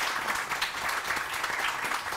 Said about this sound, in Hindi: इनके लिए बहुत सही तालियां